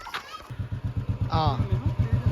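A motorcycle engine runs with a steady, rhythmic putter as a learner rides it on a slope, working the clutch. The engine is close and fairly loud, with a person talking over it.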